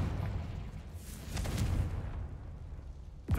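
A Confringo blasting spell explodes in Hogwarts Legacy, a rumbling burst with a noisy crackling tail and a sharp hit near the end, moderately loud against quiet game ambience.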